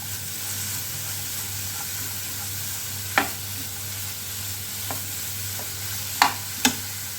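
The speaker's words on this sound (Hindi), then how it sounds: "2 मिनट के लिए हमें इस तरह से चलाते हुए भून लेनी है।" Spring roll filling is stir-fried in a pan over a high flame, a steady close sizzle with a low hum and a few sharp scrapes from the stirring spoon.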